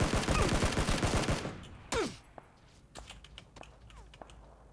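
Dense, loud gunfire in Battlegrounds through the first second and a half, then a sharp lone shot near two seconds and scattered fainter distant shots afterward.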